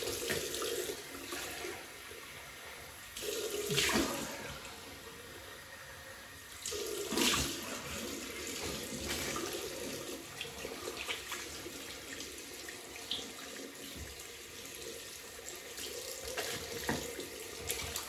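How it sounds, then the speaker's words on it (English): Tap water running steadily into a sink for a cold water rinse, a continuous close hiss with small splashes shifting as hands move under the flow. "Cold water rinse."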